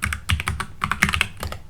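Quick, uneven typing on a computer keyboard, keys clicking crisply and close in short bursts, with no voice.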